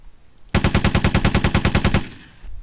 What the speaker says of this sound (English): finally get to use our medium machine gun.